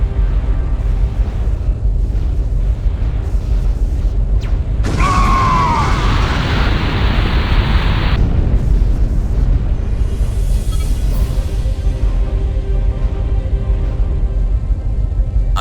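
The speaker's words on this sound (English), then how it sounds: "We've got multiple secondary explosions on the base. It's going up!" Explosions on a base in the space combat game Wing Commander Saga, a continuous low rumbling roar with a sharp, louder blast burst near the middle, then the heavy rumble carrying on.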